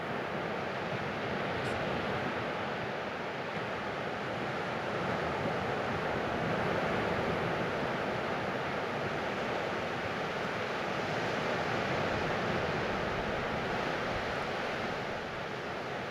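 Ocean waves wash in a continuous, even roar of surf with a soft airy hiss, with no voices over it.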